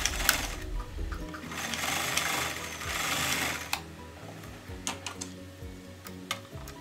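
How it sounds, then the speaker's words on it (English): A sewing machine runs a straight stitch along a skirt hem, whirring steadily for several seconds before breaking into short bursts of rapid mechanical ticking and clicking, close and moderately loud. "I'm just going to be running a straight stitch and basically just hemming allowance for the bottom of our skirt."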